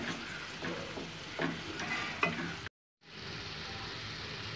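Prawn pepper fry sizzles steadily in a pan with a few soft scraping stirs, broken by a brief silent gap before the frying hiss resumes alone.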